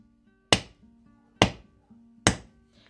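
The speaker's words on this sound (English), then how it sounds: "I'm going to continue hammering and texturing all the way around." Hammer blows texturing a leather edge for a handmade leaf bag: three sharp, evenly spaced strikes, close and loud, with quiet pauses between them.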